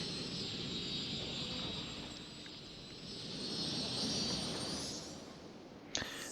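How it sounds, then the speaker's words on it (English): A Qantas double-decker airliner in Cities: Skylines gives a steady, loud jet roar. It swells slightly midway and fades near the end, with a sharp click just before the close. "Oh, we have another Qantas double-decker plane."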